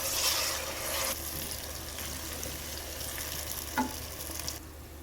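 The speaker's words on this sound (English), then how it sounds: "Stir fry the paste until the raw smell is gone." Ginger garlic paste for biryani is stir-fried in a pan, giving a continuous sizzling hiss with soft scraping stirs and one brief clink.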